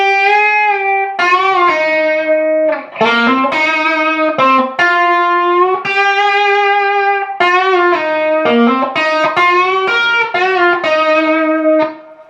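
Electric guitar outro solo in 8th position, a continuous singing lead line through effects with light distortion, bent and released notes sliding in pitch, loud and close with no voices.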